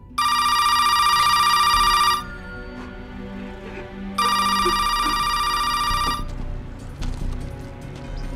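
A telephone rings for an incoming call in two long bursts of harsh electronic trilling, each about two seconds, separated by a quiet pause, loud and close with nothing else over it.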